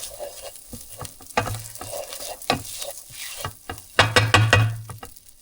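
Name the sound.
stirring cooked rice in a frying pan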